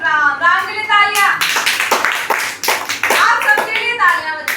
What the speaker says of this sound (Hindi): राम के लिए तालियां।